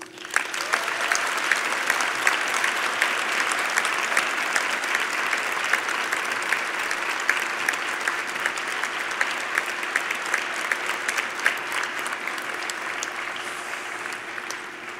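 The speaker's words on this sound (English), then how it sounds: "Let's give them a big round of applause" A large audience at a university business school convocation ceremony applauds continuously for about fifteen seconds, a thick wash of clapping that holds steady and thins slightly toward the end.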